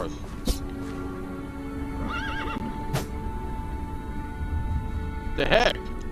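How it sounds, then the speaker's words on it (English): In Minecraft, a horse gives a couple of short, high wavering neighs, one early and a louder one near the end. They sit over a quiet game backdrop with a few sharp clicks. "Why? No! Bad horse."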